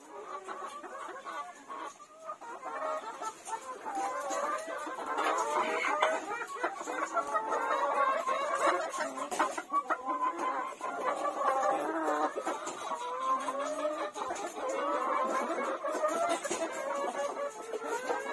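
A flock of BV380 and Kadaknath chickens on a poultry farm clucks and chatters continuously, many overlapping close calls running throughout with no talk.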